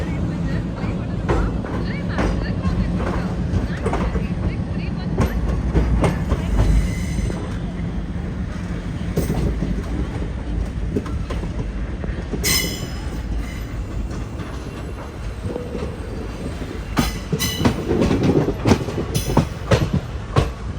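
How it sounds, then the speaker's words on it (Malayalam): Tambaram Mangaluru Express pulling out of Coimbatore, a steady loud rumble of rolling carriages with clattering wheels and occasional metallic squeals, brief sharp clanks near the end, and a voice talking over the noise. "10:12 കോയമ്പത്തൂരിൽ നിന്ന് ഇതാ ട്രെയിൻ എടുത്തിരിക്കുകയാണ്."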